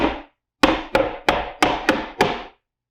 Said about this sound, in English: just use a good old hammer to find the fancy stud here